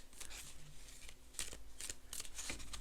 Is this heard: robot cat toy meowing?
no